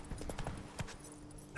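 Roach, Geralt's horse in The Witcher 3, clip-clops at a walk with a handful of soft, uneven hoof thuds close by. The steps fade toward a brief quiet before a short noise at the end.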